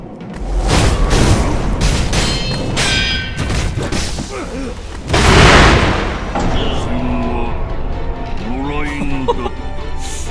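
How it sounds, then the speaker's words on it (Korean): Firecracker blasts in the samurai action game Sekiro during an owl boss fight, a series of booming explosive bursts mixed with metallic clangs, with a big loud blast around the middle and game sounds continuing under it. "폭죽 뭐야 폭죽도 막아지지 않나?"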